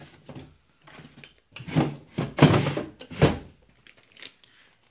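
A wooden dressing table drawer being opened, with a few soft rubs and scrapes building to louder sliding bursts near the middle, then fading to small faint sounds.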